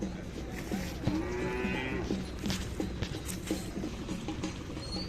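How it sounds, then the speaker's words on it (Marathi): A large cow bellows a long, clear moo at a Khillar cattle market in Pandharpur, standing fairly close, amid a busy outdoor background of livestock and market noise. "होऊ शकता मोठ्या मापाची गाय आहे"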